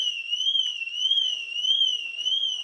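A Mercedes car alarm rings out at a car cruise-in as a steady warbling electronic tone, moderately distant and continuous, with no clear speech over it.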